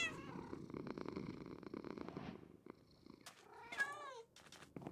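A Minecraft cat lies on a bed in the game, giving a steady low purr that runs for the first couple of seconds, followed by a few short, bright meow-like calls near the end.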